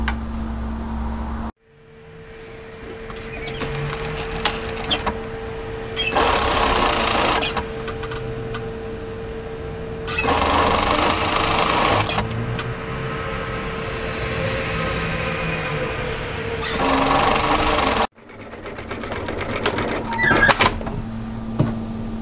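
A sewing machine stitches a cami strap in three bursts of rapid, even whirring, separated by quieter pauses with handling noises, all close to the microphone.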